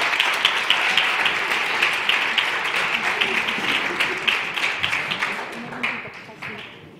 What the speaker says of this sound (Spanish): un aplauso para el resto del equipo de Acción contra el Hambre